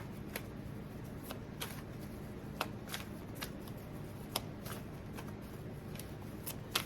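Tarot cards are shuffled by hand, giving a series of quick crisp riffling flicks at irregular intervals, close but quiet, with no talking.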